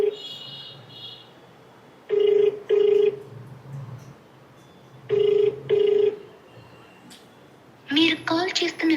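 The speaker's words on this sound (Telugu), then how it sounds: "ఫోన్ రింగ్ అవుతుంది, లిఫ్ట్ చేయట్లా." A telephone rings unanswered, sounding repeated paired rings with silent gaps between them over faint background hiss, followed at the end by a brief burst of other noise.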